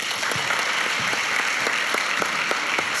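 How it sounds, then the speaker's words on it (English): Audience applause for panelists introduced at a global business case competition final, a steady wash of clapping from a crowd with scattered individual claps standing out, continuous and even throughout. "Give them a big, big, big round of applause"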